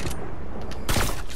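Gunfire in the Fortnite Battle Royale video game: a burst of rapid, loud shots near the end of a short stretch, with a couple of fainter shots just before it.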